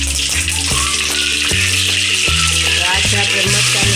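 Cumin and mustard seeds sizzle steadily in hot oil for a sambar tempering, a loud continuous crackle running through the whole stretch, with soft stirring knocks and a faint voice now and then.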